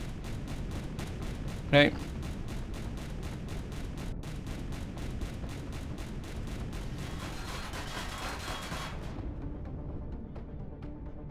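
Rapid, steady weapon fire from the space survival game Empyrion Galactic Survival, a long unbroken stream of evenly spaced shots that stops abruptly near the end, with a brief spoken word over it.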